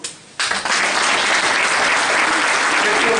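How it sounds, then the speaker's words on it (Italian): An audience bursts into loud, sustained applause at a Veneto independence political rally in a hall in Scorzè, the clapping starting abruptly after a brief quiet moment and continuing densely. "Vorrei un applauso per Diego Turco,"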